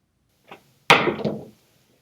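Dice tossed onto a casino craps table, a light tap followed by a sharp clatter as they strike and tumble across the felt and bounce off the wall, close and loud, then silence.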